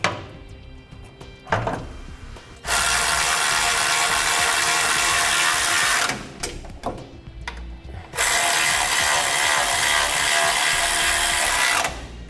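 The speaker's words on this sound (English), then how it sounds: "Now we'll torque our hardware to the amount specified in the instructions." A power tool fastens trailer hitch hardware under a 2003 Ford van in three loud, steady whirring bursts broken by short pauses with faint ratcheting clicks.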